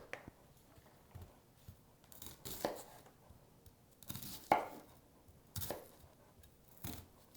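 A knife chops an onion in a handful of sharp, irregular strikes on a board, separated by short pauses, quiet and close, with no speech.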